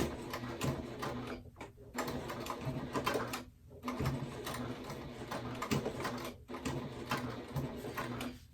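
A sewing machine back-stitching a divided pocket on a vinyl tote bag, rapid mechanical stitching bursts broken by brief pauses as the fabric is turned and reversed, close and steady.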